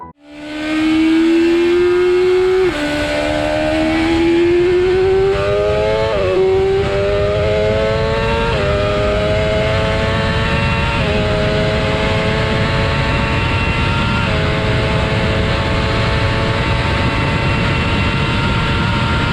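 A high-performance motorcycle engine, capable of about 190 mph and 193 horsepower, screams loudly and continuously, its pitch climbing in steps through the gears as it accelerates hard with no talk over it.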